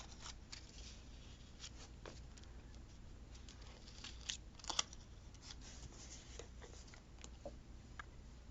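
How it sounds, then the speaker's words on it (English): Scissors trim the small tip off a botanical card with a few faint, soft snips and papery rustles, close and quiet, with no talking. "I think I'm just gonna trim that little tip off."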